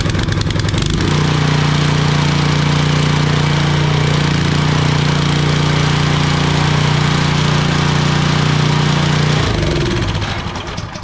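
Dewalt 3400psi pressure washer engine, a small gas motor with a possible oil level sensor fault, running loud and close with a steady droning hum for about nine seconds before its pitch shifts and it falters.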